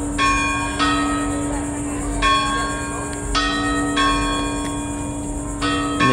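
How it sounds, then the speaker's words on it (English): Church bells ringing from the bell tower of the Cathedral Basilica of St. Augustine, dating from 1565, in the old downtown of St. Augustine, Florida: loud repeated tolling strikes with long ringing overtones over a steady outdoor background hum. "And the bell tower is going off right now."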